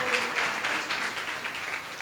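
A church congregation claps together in thanks to the Lord, a steady broad wash of many hands at moderate loudness, slightly distant, with no voice over it.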